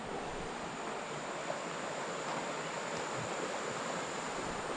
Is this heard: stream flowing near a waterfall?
yes